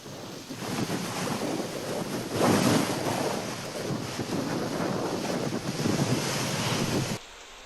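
Strong, fast-flowing floodwater rushes past students crossing a stream swollen by heavy rain, a loud continuous broadband roar with wind buffeting the microphone, swelling slightly midway before cutting off abruptly near the end.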